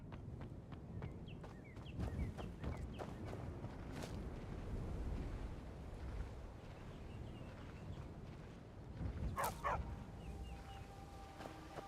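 A dog in Skyrim gives a few faint, scattered barks and yips amid quiet clopping footsteps and background game ambience, with no talking.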